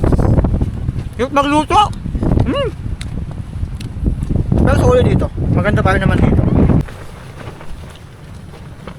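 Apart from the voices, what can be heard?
strong wind at a beach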